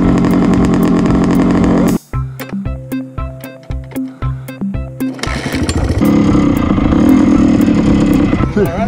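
A dirt bike engine buzzes loudly and roughly while being ridden, then cuts to a rhythmic series of short revving bursts and idling chugs before rising again into a steady, close, full-throttle drone.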